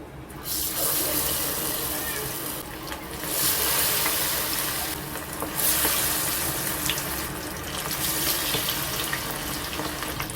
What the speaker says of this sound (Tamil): எண்ணெய் நல்லா காஞ்ச உடனே நம்ம வந்து காடையை வறுத்து எடுப்போம்